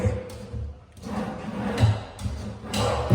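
Wooden bedroom drawers slide and bump several times, a series of hollow thuds and scrapes close by, with no talking.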